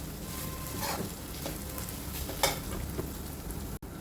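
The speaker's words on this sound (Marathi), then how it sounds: "अगदी थोडीशी घाणेकूळ पाव चमचा आणि पाव चमचा जिरेपूड मिक्स करून घेऊ" Spice powders, including cumin powder, are stirred into oil in a frying pan for a Maharashtrian matki usal, a dense close sizzle with scraping stir strokes, a louder clank partway through and a brief dropout near the end.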